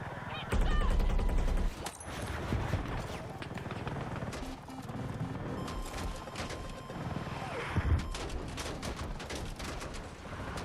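Strafing-run gunfire in Battlefield 6, a loud burst of rapid shots up front followed by continuous dense battle noise with scattered impacts and a sharp bang near the end.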